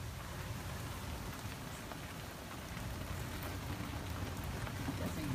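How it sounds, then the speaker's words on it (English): Steady rain falls outdoors during Hurricane Irma, a dense, even hiss of drops with a low rumble beneath, faint and continuous with no clear voices. "Yeah, it's nice and breezy, it's raining, we love the water,"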